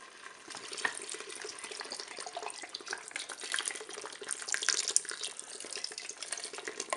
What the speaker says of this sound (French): Je vais verser la bière.